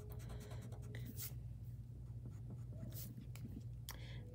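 A pencil drawing lines on paper for stress-relief art gives soft, quiet scratching strokes in short bursts, faint under a steady low background hum.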